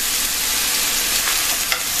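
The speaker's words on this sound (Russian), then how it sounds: "И отправляем обжариваться на подсолнечном масле." Steady, dense sizzling of mushrooms frying in hot sunflower oil, close and continuous, with a faint stir or scrape near the end.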